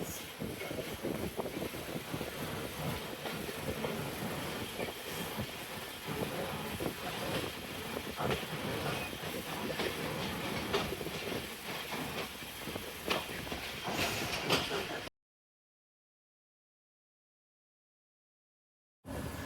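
A passenger express pulls away from a rural station near Narowal in Pakistan, a steady rumbling rail roar with rattling carriages and wind buffeting, continuous and loud for fifteen seconds before a brief silence.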